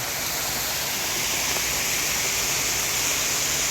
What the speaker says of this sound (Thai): ผมชอบมากเลยน้ำตกตรงนี้ ดูแล้วเพลินตาดี สวยงาม